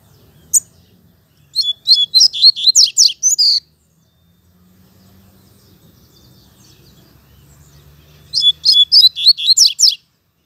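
Coleiros (double-collared seedeaters, Sporophila caerulescens) sing in two bright, rapid bursts of high chirps, one at the start and one near the end, separated by a quiet stretch with a faint low hum beneath.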